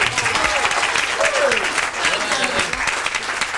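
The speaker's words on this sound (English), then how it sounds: "Nice round of applause, then, please," Wedding guests applaud the best man's speech at a reception, a full steady roar of clapping, loud and sustained, with a voice briefly audible underneath.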